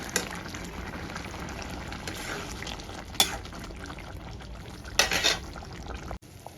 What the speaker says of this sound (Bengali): ঝোলটা আমার ফুটছে